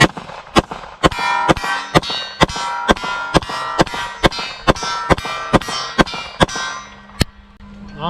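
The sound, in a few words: Glock 22 Gen 4 pistol firing a magazine at steel targets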